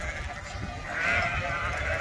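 A flock of sheep bleats outdoors in open countryside, several overlapping calls rising and swelling toward the end, moderately loud and close with no talk.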